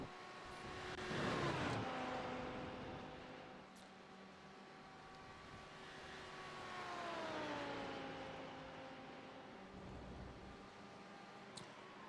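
A Lamborghini GT3 race car drives the Spa circuit in a racing video game, its engine note rising and falling through gear changes and swelling as it passes, fairly faint and steady.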